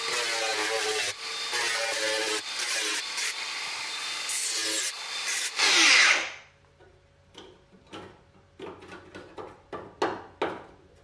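A power cutting tool runs loud and close as it bites into rusted sheet metal on a classic Saab 900 body, a harsh continuous grinding whine. It cuts off abruptly, and a string of sharp knocks and clatter follows.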